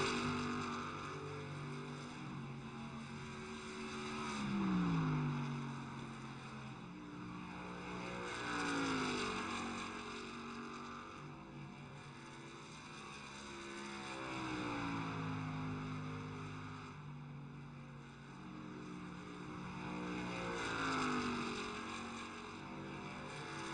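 Race trucks of the Old Glory Truck Series circling the track at Dover at night, a steady droning engine roar that swells and fades as trucks pass, with pitch sweeps on each lap.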